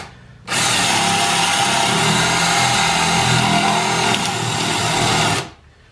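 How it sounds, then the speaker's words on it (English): An electric drill bores into wood with a loud, steady grinding whine that runs for about five seconds, close up, then stops. "And I just drill until the hole starts on the other side."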